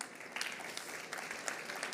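Audience at a supply chain awards ceremony applauds in a dense, steady patter of many hands, moderately distant and fairly soft, continuous over the short stretch without speech.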